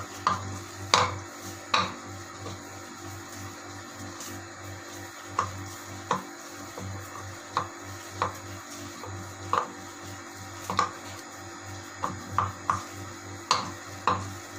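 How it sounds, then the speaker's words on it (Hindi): Spiced chapli kabab mixture being stirred and mixed by hand in a bowl, with soft repeated clinks and scraping at an uneven rhythm over a steady background hum; no talking. "फिर से मिक्स कर लेते हैं।"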